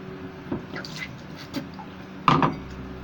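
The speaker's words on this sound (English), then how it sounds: "I'm going to put a little water in the bottom." A small amount of water is poured into the bottom of a denture container, giving a few soft trickling splashes and drips followed by one louder, brief splash near the end.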